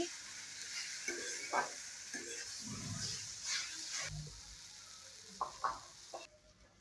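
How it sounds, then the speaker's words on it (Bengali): Ridge gourd frying in a pan with salt and turmeric, stirred for a few minutes: a steady oily sizzle under sharp clattering spatula scrapes that come in irregular bursts, with a brief lull near the end. "দিয়ে এটা খানিকক্ষণ দু থেকে তিন মিনিট নাড়াচাড়া করে নিচ্ছি"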